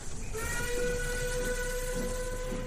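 A passenger train sounds a sustained whistle over a low rumble, heard at moderate distance with no talk.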